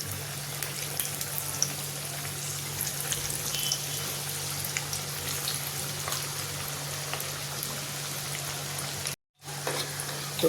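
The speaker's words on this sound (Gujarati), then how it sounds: "તો આવી રીતે આપણે બીજા વડાને પણ તળી લઈશું." Methi bajra vadas fry in hot oil, producing a steady, fairly quiet sizzle with scattered light pops over a low background hum, with no talk.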